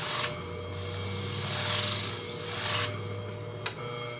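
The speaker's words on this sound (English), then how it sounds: "This is a swarf eraser." Swarf eraser rubbed over a worn 800 grit sharpening stone: a close, harsh scrubbing friction that swells and fades over a couple of seconds, with a short scraping burst afterward, above a low steady hum.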